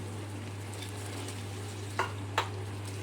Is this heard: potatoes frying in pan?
yes